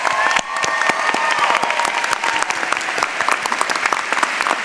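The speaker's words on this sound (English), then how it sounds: "Let's have one more round of applause to our MBA graduates." Audience applause for MBA graduates at a 2014 business school commencement ceremony: dense, sustained clapping from a large crowd that fills the whole stretch at steady loudness with no talk.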